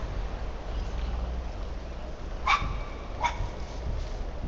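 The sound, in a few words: dog barking in the video game After Dark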